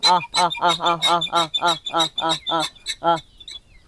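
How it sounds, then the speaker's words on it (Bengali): Many short, rhythmic bird calls repeat in quick succession, close by and fairly loud, a busy chorus of hens clucking and chicks cheeping at a hillside farm. "অনেক আওয়াজ পাচ্ছি দেখুন কত রকম মুরগি আছে"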